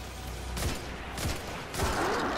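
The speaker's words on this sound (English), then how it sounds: "What are you guys shooting over here?" Gunfire in the video game Destiny 2 comes as three separate bursts of rapid shots spaced about half a second apart, fairly loud against a quiet background.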